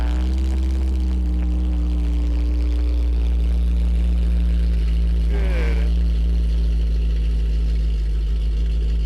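A 2013 Hennessey Camaro ZL1 with the HPE700 engine idles loud and close, a deep steady rumbling drone with strong low hum throughout, and a brief voice partway through.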